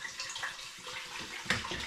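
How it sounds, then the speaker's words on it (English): Spring water poured into a pan of hops for home brewing, a brief splashing gush of liquid, close and moderately loud, no speech. "I'm adding to the hops 5 litres of spring water."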